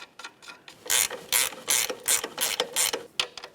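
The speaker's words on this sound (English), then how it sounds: "Start on the nut, bottom it out, torque that to 55 foot-pounds." A hand ratchet tightening the sway bar link nut on a 2009-2010 Pontiac Vibe front strut assembly, clicking in rapid bursts of strokes, close and clear with no talk.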